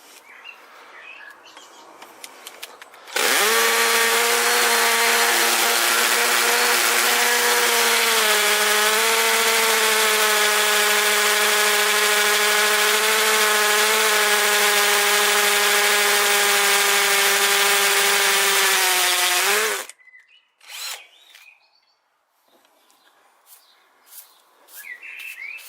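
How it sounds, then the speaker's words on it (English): A loud, steady drilling whine with a buzzing hammering texture from an Einhell 24-volt cordless SDS hammer drill boring into brick, running continuously for about sixteen seconds, then cutting off abruptly, leaving faint background sounds. "So I'll use the Einhell first on hammer drill."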